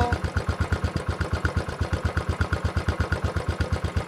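A Royal Enfield Bullet 500 single-cylinder motorcycle engine idles nearby with a steady, even low thumping pulse, loud and alone.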